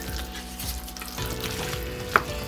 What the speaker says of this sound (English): So let's stir the flour in